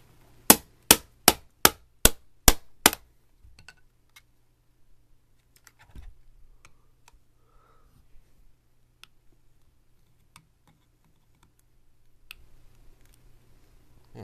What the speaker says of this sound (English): Hammers always work.